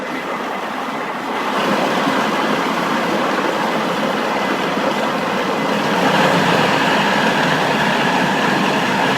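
A blender motor grinds almonds for almond milk loudly and continuously, its harsh whirring surging up in intensity partway through.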